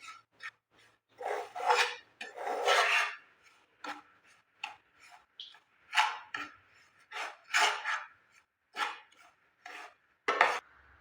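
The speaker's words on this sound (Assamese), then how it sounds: "আটাখিনি মই ল' ফ্লেমত ভালদৰে ভাজি ল'ম" Wheat flour being stirred and roasted in a pan on low flame for atta laddu: repeated scraping and rubbing strokes of a utensil against the pan in irregular bursts with short pauses, close and moderately loud, no talking.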